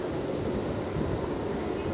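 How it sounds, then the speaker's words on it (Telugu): Steady broadband roar of a Nauru Airlines jet airliner just after landing at Tarawa, Kiribati, heard from a distance as a constant, moderately faint rumble with no voices. "నౌరు ఎయిర్లైన్స్ ఫ్లైట్ ఇప్పుడే వచ్చింది, ల్యాండ్ అయింది."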